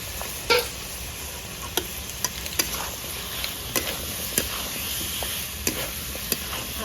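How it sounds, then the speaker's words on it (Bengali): Cut potatoes go into a pan of frying spices, bringing a constant sizzle broken by sharp scraping and tapping strokes of a spatula at irregular intervals. "এবার কেটে ধুয়ে রাখা আলুগুলো দিয়ে দেবো প্রথমে।"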